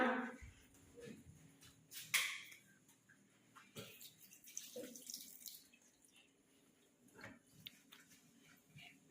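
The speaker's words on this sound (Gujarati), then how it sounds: "વોશ બેસિનમાં હાથ ધોઈ દો" Water runs from a washbasin tap in a home while hands are washed, a soft, steady stream near the mic with splashy bursts and clatter, stopping and starting over about nine seconds.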